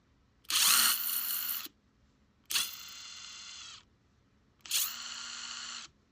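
Bosch GXL12V-220B22 compact 12V impact driver run three times in quick succession at different impact settings, each a loud buzzing whir of about a second separated by short silences, close up with no talk.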